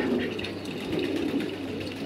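Soft, low coos of Qatari pigeons at a pigeon farm in Qatar murmur continuously over a steady background hum, quiet and somewhat distant.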